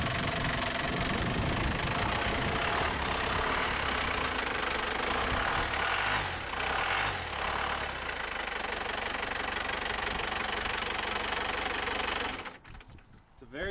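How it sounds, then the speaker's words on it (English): A Cummins 4BT diesel engine fitted in a 2002 Tahoe runs close and loud with a harsh, steady knocking clatter at idle, its tone shifting briefly midway, before dropping away sharply near the end. "start her up, Marty."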